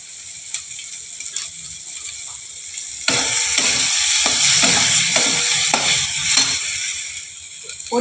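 Spices frying in mustard oil for a Bengali potol dorma, a loud sizzle that kicks in suddenly, with rhythmic scraping strokes of a spoon stirring the pan close up.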